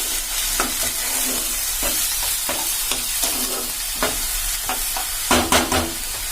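Green chili and tomato paste sauté in a kadai, filling the air with a dense, loud sizzle cut by regular stirring strokes, with a few heavier scraping clatters toward the end.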